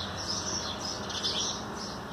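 A sparrow held in a hand on a rooftop terrace garden chirps in short, bright, repeated bursts over a steady background hiss, with no voices.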